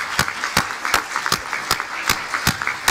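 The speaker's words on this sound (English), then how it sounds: "Join me in a round of applause for these wonderful countries." A conference audience at a climate and clean air conference applauds, its claps landing in an even, rhythmic beat that stays steady and moderately loud throughout.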